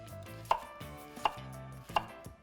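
Three crisp knife chops on a cutting board, evenly spaced about three-quarters of a second apart, as vegetables such as leeks are cut smaller for chicken stock, close and clear over a quiet background.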